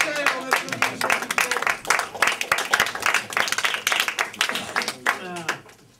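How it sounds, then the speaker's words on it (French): An audience applauds Michel at a live stage show, a sustained wash of clapping hands with dense overlapping claps, some voices mixed in. "on applaudit Michel"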